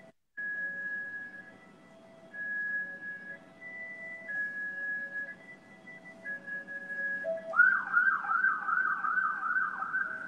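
An emergency vehicle siren sounds outside, alternating between two tones at a moderate distance, then switching to a faster rising and falling wail that grows louder near the end.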